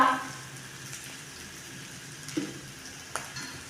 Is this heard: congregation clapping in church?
no